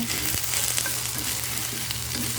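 Okra and dried anchovies stir-frying in a pan, a dense continuous sizzle close up with light scraping from stirring throughout, no talking.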